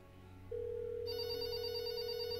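A steady telephone line tone hums in the game There Is No Game: Wrong Dimension, starting after a quiet moment and holding level, with a thin high electronic whine layered on top halfway through; no voices.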